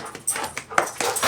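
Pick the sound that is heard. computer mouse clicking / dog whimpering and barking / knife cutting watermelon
dog whimpering and barking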